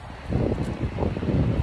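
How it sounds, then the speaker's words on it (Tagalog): Strong wind buffets the microphone at Hac Sa Beach in Macao, a steady broadband roar with gusting swells that fills the whole clip, without clear speech. "Kami, lakas ng hangin."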